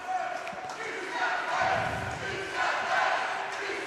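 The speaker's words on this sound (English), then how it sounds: "New South Wales fans, active as always, cheering on their team" Ice hockey fans of New South Wales cheering on their team at an arena game, a broad swelling roar of the crowd with shouts, while a commentator talks over it.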